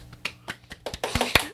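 A handful of sharp hand claps, loosely spaced and irregular, ring out in a podcast studio as a guest is welcomed; they are moderately close and heard with no talking over them.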